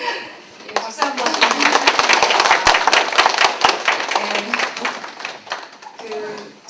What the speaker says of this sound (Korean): 예, 박수 한번.